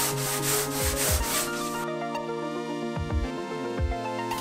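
Sanding on the bodywork of a GT40 replica car: a steady abrasive rubbing that runs without a break, with a few sweeping strokes audible under the constant scratchy texture.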